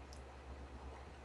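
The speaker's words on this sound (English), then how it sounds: "So we're going to click on New Site" Mouse clicks in the FileZilla FTP client: a faint click at the start and a sharper one near the end, both over a quiet low hum.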